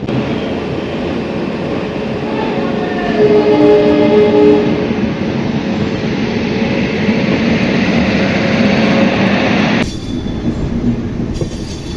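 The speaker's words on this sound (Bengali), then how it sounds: "খড়গপুর ছেড়ে দিল আমাদের ট্রেন।" A train leaves Kharagpur station, heard from on board: a loud, sustained rolling rumble of wheels on rails with squealing metallic tones rising over it, then an abrupt shift near the end.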